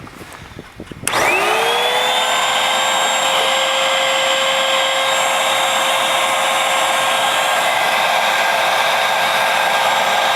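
A Hoover Windtunnel upright vacuum cleaner with a suction fault switches on about a second in, its motor whining up to a loud, steady high-pitched roar that continues alone.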